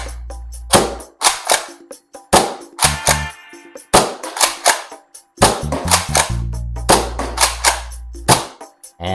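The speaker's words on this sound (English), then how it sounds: "let's get to the firing test and see how the Strikeback performs" Nerf N Series Strikeback blaster firing, repeated sharp clacking shots and mechanical priming clicks in a steady rhythm, close and loud, with low thuddy handling noises between bursts.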